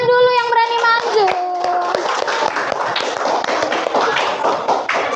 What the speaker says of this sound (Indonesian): Tepuk tangan dulu yang berani maju.